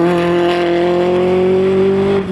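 Racing sports car with a BMW 2-litre engine and Hewland gearbox at a race meeting in Phoenix Park, a loud sustained high-revving engine note holding steady for a couple of seconds, close by, with no voices.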